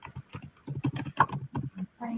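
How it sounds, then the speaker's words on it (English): Typing on a computer keyboard, a quick burst of clicky keystrokes in irregular rhythm, close and clear, with a brief voice at the end. "I am typing Ryan's name into the Q&A for Rita."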